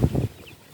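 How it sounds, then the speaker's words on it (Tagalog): Two quick, low clucks from a chicken, close by and brief, then quiet. "malalaki na yung aking alagang manok"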